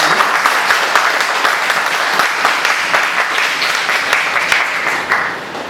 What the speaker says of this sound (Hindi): तो जोरदार तालियों से जयेश जी का हम स्वागत करेंगे।